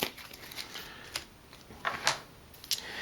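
Cards from the AI deck of the Kingdom Death board game are shuffled at a tabletop in several quick, soft riffling bursts, faint and close, with no talk.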